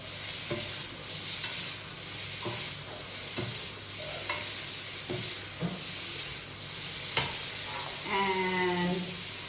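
Egg fried noodles being stirred in a hot pan, loud continuous sizzling with irregular clacks and scrapes of a utensil, a brief hiss of steam near the end, no voices.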